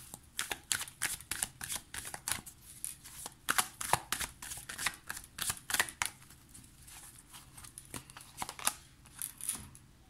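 Tarot cards being shuffled and drawn for a reading, a close, soft run of quick flicking and riffling snaps that repeat in bursts, with no talking.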